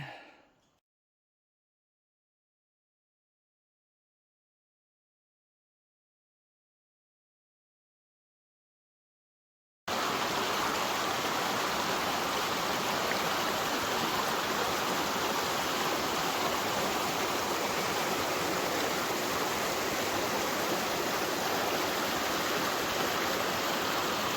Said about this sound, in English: It's been so awesome kind of being on the trail right next to this creek